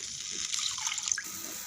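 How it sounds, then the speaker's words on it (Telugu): Water splashes and trickles steadily into a pan for under two seconds, a light pour of one glass of water for cooking vermicelli, with no voices. "ఇప్పుడు 1 గ్లాస్ వాటర్ పోసుకొని"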